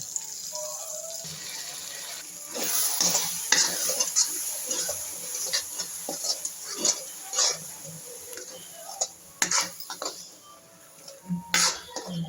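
A ground clove and cinnamon paste being fried and stirred in a pan for paneer butter masala, with a soft sizzle under irregular scraping and clicking strokes of a spoon, close and moderately loud.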